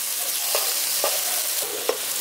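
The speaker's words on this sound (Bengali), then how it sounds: "এবার সবগুলোকে একসাথে ভালো করে আরেকবার কষিয়ে নিচ্ছি" Spices with Kashmiri chilli powder and mustard paste are sautéed and stirred in a pan for khoyra fish bhapa: a steady, close sizzle broken by brief scraping strokes roughly every half second.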